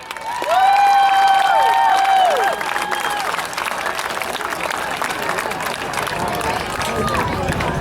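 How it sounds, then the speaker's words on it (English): An audience at a 2023 figure 8 racing trophy presentation claps and cheers steadily. A few sustained tonal whistles ring out early over the crowd noise, which then stays at an even, moderate level. "let's give all these guys a round of applause"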